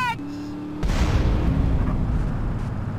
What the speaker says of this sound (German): Hat die da gerade was explodieren lassen?